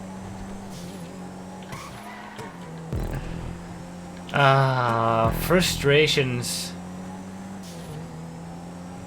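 Race car in GTA 5 skidding with tires squealing over a steady engine drone, a loud revving burst midway, with someone talking over the driving.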